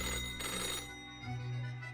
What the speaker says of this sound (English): The old-fashioned phone suddenly rings with an ear-piercing metallic clatter.